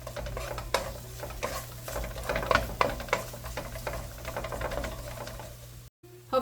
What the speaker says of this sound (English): I'm gonna add the rest of my onion, and I'm gonna cook it just for like a minute or two.